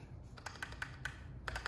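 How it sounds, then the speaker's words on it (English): Muted keystrokes on a Keychron Q6 mechanical keyboard with silent switches, several soft, separate presses at an uneven pace, heard close and quiet over low background hum. "Again, these are supposed to be silent switches."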